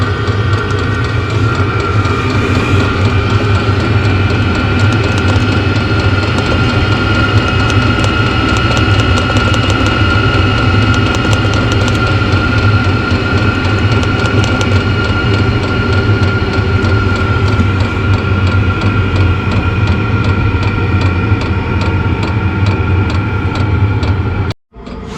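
A VEVOR diesel heater on its lowest setting runs with a steady, loud mechanical drone and low rumbling hum that stays constant for over twenty seconds before stopping abruptly near the end.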